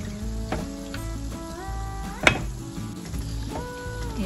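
Soft sizzling of gulab jamun balls frying in oil as they are nudged around the pan, with occasional light clinks of a utensil against the pan and a sharp tap midway.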